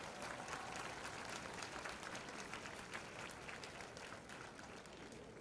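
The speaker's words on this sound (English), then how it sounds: "Please give yourselves a round of applause." Sustained applause from a large high school graduation ceremony audience, steady clapping that fills the room without letting up.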